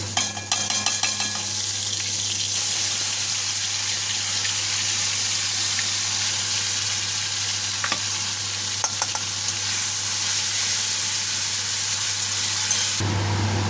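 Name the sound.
spice paste sizzling in hot oil for tangra fish curry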